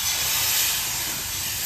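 Stock poured into a hot pan sizzles in a steady, bright hiss that holds evenly for under two seconds, close and fairly loud, with no voice over it.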